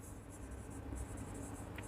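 Pen writing by hand on paper while working an accounts calculation, a steady faint scratching that runs continuously with no voice over it.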